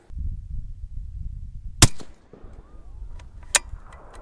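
A 7mm-08 rifle firing a Barnes 171-grain bullet gives one sharp, loud report with a brief echo, then a second fainter crack a moment later, over a low outdoor rumble.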